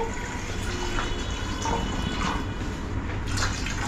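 Water is poured into a pot to steam modak, a dense, steady splashing rush of liquid at close range that continues without a break, with no talk.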